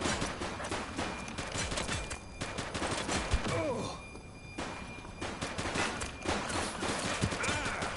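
Gunfire in The Precinct, a police video game, crackles in rapid bursts and volleys through the clip, fairly close and dense, with a brief lull in the middle.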